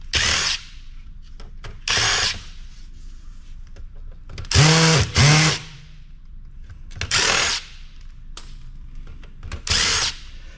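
A power driver backs screws out of a point of sale system in bursts of high, whirring motor noise. About six runs of roughly half a second each are separated by pauses, close and loud. One burst stutters as the driver tightens and loosens.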